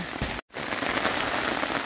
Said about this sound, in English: Major hailstorm.